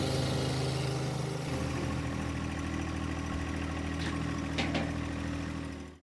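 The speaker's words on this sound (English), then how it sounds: "This combination is so loud without the exhaust pipe and with this crazy loud mower" A John Deere 1038X tractor runs with a 12-foot Woods batwing finish mower spinning nine blades, its exhaust pipe removed. A loud, steady engine-and-blade drone fills the whole stretch, close and constant, with no talking.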